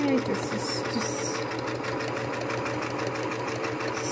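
Sewing machine running a straight stitch through a quilt, a steady continuous whirring hum held at even loudness throughout, with a voice talking over it.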